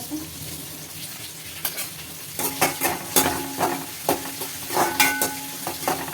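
Dried red chillies and curry leaves frying in hot oil for a manathakkali keerai kadayal, a steady loud sizzle with crackling pops and spatters close by, stirred now and then.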